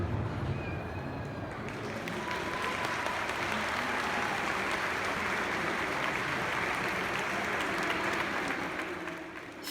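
An audience applauds after a horse carousel display by riders with swords, steady dense clapping and crowd noise lasting several seconds before fading slightly at the end.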